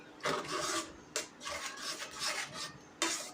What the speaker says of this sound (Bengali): এই যে আবারও নাড়াচাড়া করে নিব, মানে নাড়তেই থাকতে হবে।